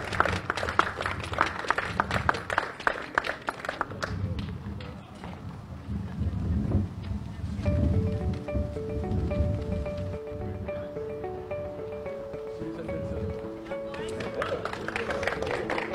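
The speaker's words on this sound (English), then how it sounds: "A round of applause." Spectators applaud a road race winner outdoors at a 10K event in Saint Lucia, a scattered burst of clapping at first that settles into a softer crowd murmur with voices and music over it.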